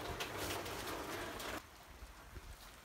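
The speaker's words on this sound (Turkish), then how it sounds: "Fakat yağmur hafifledi." Light rain patters outdoors in a garden, a soft steady hiss that thins and drops noticeably partway through, with no voices.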